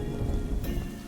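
Steady rain with a low rumble of thunder in a cartoon storm scene, a continuous soft wash that brightens briefly near the end, with no voices.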